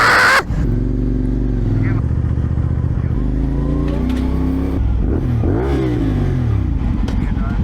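A CFMoto 450SR motorcycle engine idles and revs loudly up close, with rising and falling tones and a brief cutout near the start, while people talk over it.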